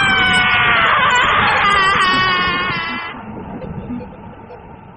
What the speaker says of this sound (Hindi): एक झटके में श्वेता की चीख उन पहाड़ियों में गूंज जाती है